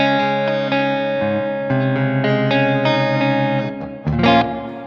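Electric guitar through a Blackstar St James amp plugin on its EL34 power amp setting, sustained clean-toned chords ringing one after another with a rounder, warm sound, alone and fairly loud.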